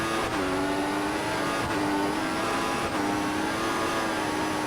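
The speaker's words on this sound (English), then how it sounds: "So we're doing some really nice drifting there through that very nice sweeping section of corners" Race car engine in the F1 2014 video game at the United States Grand Prix, a sustained high-pitched whine with shifting tones as the car drifts through a sweeping section of corners.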